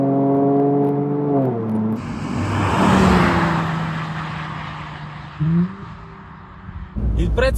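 Mercedes-AMG C43 4Matic in sport mode, its engine tone climbing and shifting through gears, then a broad whooshing surge of acceleration with wind and road noise, heard from inside the car.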